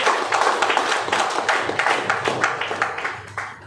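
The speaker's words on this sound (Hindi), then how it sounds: "जोरदार तालियां बजानी अपने लिए।" An audience claps hard together in a lecture hall, a dense, sustained patter of many hands that rises and falls in waves.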